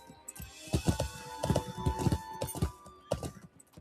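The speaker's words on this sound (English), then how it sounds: "A lot of horse riding in this game." Horse hooves clip-clop steadily while riding through the countryside in the video game Lord of the Rings Online, a close, rhythmic trot of repeated hoof strikes with no talking.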